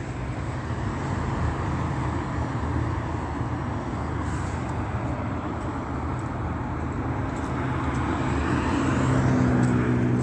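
A commercial airliner flying overhead makes a continuous low roar that holds steady and then swells slightly toward the end. The sound is alone, with no speech.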